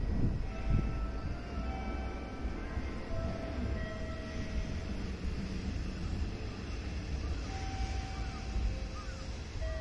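A Hankyu or Hanshin commuter train idles at Daimotsu station on the Namba line branch, a steady broad rumble of motors and air with faint tonal whines, heard alone with no talk.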